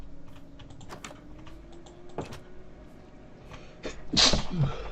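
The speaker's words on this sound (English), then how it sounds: "I swear I'm going to sneeze in a sec." A single sharp sneeze bursts out late, over faint keyboard typing and low background hum from a gaming session.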